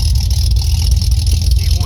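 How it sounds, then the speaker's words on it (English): A 1978 Ford Bronco idles through a custom exhaust that exits straight out the back, a loud, close, low steady rumble with slight pulsing. "Custom exhaust comes straight out the back."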